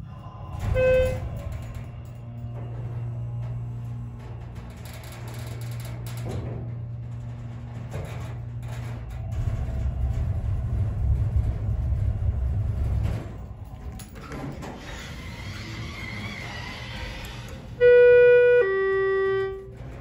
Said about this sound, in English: Let's go to 2 and listen to the motor.